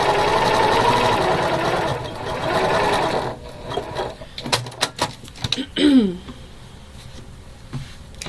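A sewing machine stitches layered quilt pieces for a Valentine mystery quilt, a steady loud whir for about three seconds, then short start-stop bursts with handling clatter.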